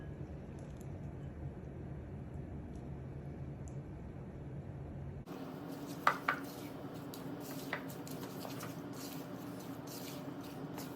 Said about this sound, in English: I'm gonna mix the butter, the brown sugar, and the granulated sugar together.